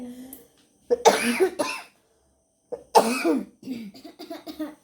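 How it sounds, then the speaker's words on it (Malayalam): Two harsh coughing fits, close and loud, separated by a short pause, each a cluster of rough throaty bursts. "ഭയങ്കര ചുമയാട്ടോ"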